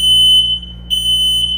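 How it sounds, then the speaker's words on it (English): A smoke alarm goes off indoors with loud, piercing, steady high-pitched beeps, one long tone breaking briefly before sounding again. "Y'all, I done set off my damn alarm."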